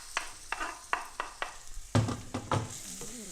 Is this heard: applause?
no